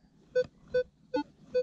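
An X-TERRA metal detector signals a target during a search in the field with four evenly spaced, clear electronic beeps of similar pitch and loudness, and no voices.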